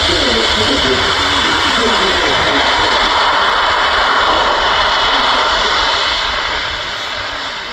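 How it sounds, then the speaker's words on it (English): Airbus A400M military transport aircraft performing a max effort takeoff at an air display, its loud, steady turboprop engine roar filling the air throughout and easing slightly toward the end. "There was a max effort takeoff, which is accelerating to beyond the rotate speed, and they're accelerating a further 30 knots before lifting the off to a max performance"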